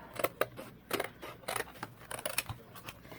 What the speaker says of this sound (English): I'm just going to go ahead and cut it with my scissors first